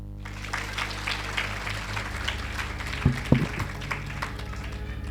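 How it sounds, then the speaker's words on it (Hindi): Audience applause in a hall, a short spatter of clapping under a low hum, with a couple of sharper claps near the middle before it fades. "क्यों ताली बजाया?"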